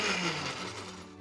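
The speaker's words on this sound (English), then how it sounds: "Pop that in and then we blend it." A blender whirs through chopped mango, lime juice, sugar and a little water, a steady close-up motor drone with a gritty churning texture that eases slightly toward the end, alone without voices.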